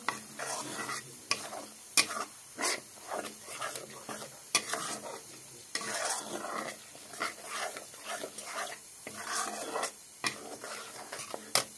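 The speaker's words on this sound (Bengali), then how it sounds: "হলুদ দিয়েছে, এখন কষিয়ে নেব মশলাগুলো একসাথে" Paste spices and a spoonful of turmeric being sautéed together in a pan for a Bengali tomato fish curry, with repeated scraping stir strokes over a steady close sizzle; a dog barks or growls faintly now and then.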